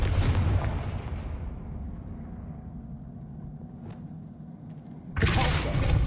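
A Confringo blasting spell explodes in Hogwarts Legacy, a loud booming blast that decays into a long rumbling tail, followed by a second sharp burst near the end.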